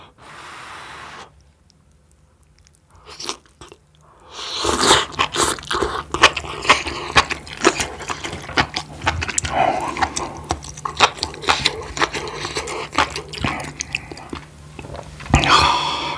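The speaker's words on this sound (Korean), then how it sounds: "씹는 소리 끝내줘야지요." Close, loud crunchy chewing of enoki mushrooms from spicy Korean jjamppong soup, with soft mouth sounds and slurping, after a quiet start with faint handling. Repeated wet bites and crunches follow in a dense, irregular rhythm, with no talk.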